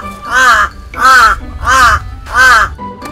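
A pet crow named Wak caws loudly and close by in the morning, four harsh, evenly spaced calls in a row with short pauses between them.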